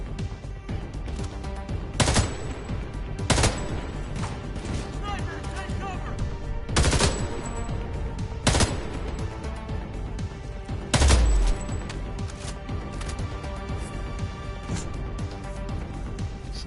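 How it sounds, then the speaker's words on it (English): Gunfire from the video game Homefront The Revolution on PS4 Pro: several loud, sharp shots burst out at uneven intervals over a steady, dense game soundscape. "Somebody's shooting me and I'm dying."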